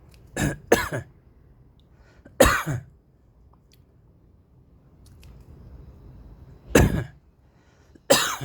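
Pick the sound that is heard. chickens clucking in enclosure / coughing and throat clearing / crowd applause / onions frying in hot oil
coughing and throat clearing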